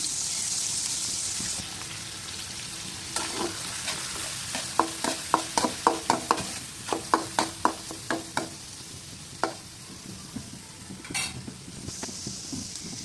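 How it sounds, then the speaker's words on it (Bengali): Turmeric, chili powder and salt sautéing in a pan, with a steady sizzle and a run of quick rhythmic scraping stirs in the middle, close and moderately quiet. "মশলাগুলো ভালো করে কষিয়ে নিতে হবে"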